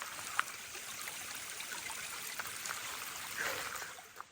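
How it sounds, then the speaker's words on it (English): Stream beside a hiking trail in the New Hampshire woods, flowing with a steady, soft trickling wash, fairly faint and continuous with no voices. "I'm coming to another sound of water."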